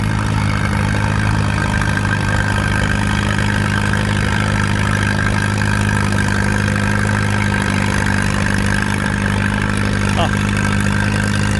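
A 1953 BF Avery tractor engine idles at a tractor show in a loud, constant low hum that holds steady and close for the whole stretch.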